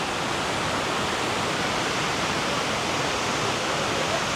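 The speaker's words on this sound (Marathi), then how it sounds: "हा धबधबा असा" The Kondeshwar waterfall near a Shiva temple in Badlapur roars in a loud, dense, unbroken wash of falling water, heard close and steady throughout.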